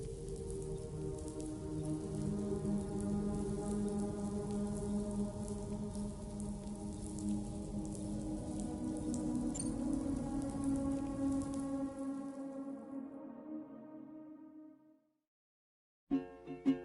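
Steady rain in the video game Death Stranding 2 falls as a continuous close hiss over a tonal musical bed, with no talking, then fades out near the end before a brief sound cuts back in.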